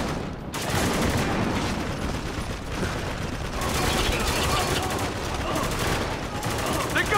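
Heavy automatic fire from a mounted gun in the Spec Ops: The Line video game rattles in continuous loud bursts with mechanical clatter, with speech mixed in at times.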